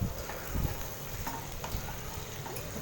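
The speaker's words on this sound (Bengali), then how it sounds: "এর মধ্যে আমি ভাজা আলুগুলো দিয়ে দিলাম।" Fried potatoes being stirred into a cooked red chilli spice masala in a pan, a continuous close sizzle with scraping stir strokes throughout.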